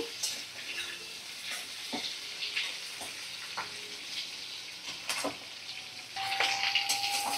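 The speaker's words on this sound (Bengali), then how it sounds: "তো এটা ভালো করে আমি নাড়াচাড়া করে মিডিয়াম ফ্লেমে রেখে ভাজা করে নিচ্ছি।" Half a papaya being stirred and fried in a pan over a medium flame, a steady close sizzle with scraping stir strokes and a brief metallic clink near the end, no voices.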